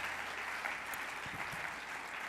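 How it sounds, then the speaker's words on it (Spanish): Audience applause at a talk on being Catholic in politics, a steady broadband wash of many hands clapping throughout, moderately distant and continuous with no talk over it. "Un aplauso para Joserra."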